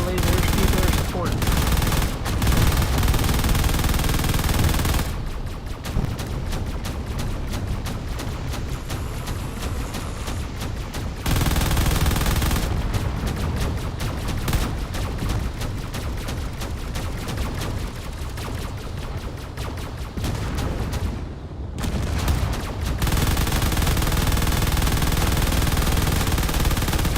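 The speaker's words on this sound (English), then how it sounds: "the lasers are shooting straight at it" Laser weapons firing in a space combat game, rapid continuous bursts of crackling shots that drop out and resume in long stretches, loud and dense throughout.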